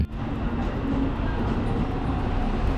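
A train passes on the railway near Umekoji in Kyoto, heard from close by beneath the tracks as a loud, continuous rumble and rattle that fills the whole stretch.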